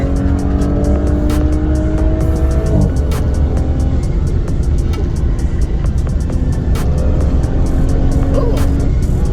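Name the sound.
car accelerating on twisty roads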